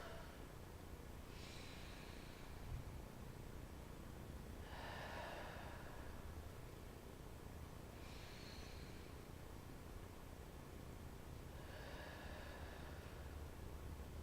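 Breathing during a slow exercise routine, four soft airy inhales or exhales spaced a few seconds apart under steady background hiss, faint and close.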